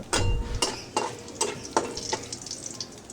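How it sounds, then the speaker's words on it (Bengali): Whole bay leaf, dried red chili, cardamom, cinnamon stick and cumin seeds frying in hot oil for a chicken leg curry, a steady close sizzle broken by several sharp stirring scrapes. "এখন এই মশলাগুলো হালকা করে একটু ভেজে নেব"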